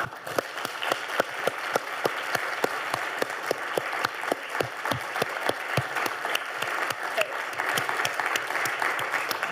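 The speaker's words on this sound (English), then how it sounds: "I think we'd all like to thank our panelists here and online with one last round of applause." A festival panel audience gives the panelists a final round of applause, a sustained, fairly loud mass of clapping with many crisp individual hand strikes throughout, with faint voices mixed in.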